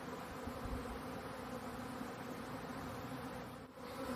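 Honeybees buzz inside a hive opened for a spring check, a dense steady hum close by, fairly quiet and continuous with no talking.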